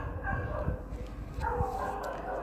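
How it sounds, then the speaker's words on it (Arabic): Street dogs bark and yip outdoors, fairly distant and faint, in a couple of short clusters over a low background hum. "بعتذر عن صوت الكلاب اللي في الشارع"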